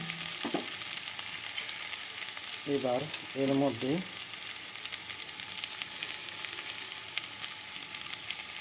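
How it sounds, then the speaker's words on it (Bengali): Onions fry to brown in a pan with a steady, even sizzle and hiss throughout, close and moderately loud, while someone speaks briefly over it. "পেঁয়াজটা ব্রাউন কালারের মতন ভাজা ভাজা হয়ে গেছে"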